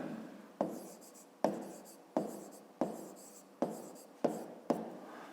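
Pen or chalk strokes write out a math answer in a regular series of about eight short scratching marks, each with a sharp start and a quick fade, close and fairly quiet.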